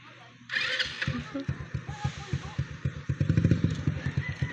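A motorcycle engine starts up nearby and idles with a rhythmic chugging pulse, while people talk over it.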